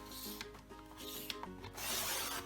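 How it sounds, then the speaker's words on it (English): A paper cutter trims a sheet of coloured paper along the bottom edge, giving a close, steady scraping rasp with a few light clicks, rising to a brighter, continuous slicing swish near the end. "I'm just going to bring in my cutter, and I'm going to trim this"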